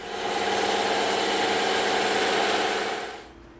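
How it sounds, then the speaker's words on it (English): A bandsaw cuts through EVA foam with a steady, loud, broadband whir lasting about three seconds, then tapers off as the blade runs free. "we're going to use the bandsaw for this"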